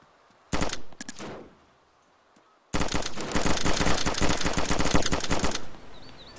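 Gunfire in the survival game DayZ: a couple of close single shots at first, then after a short pause a long rapid burst of automatic fire, loud and dense.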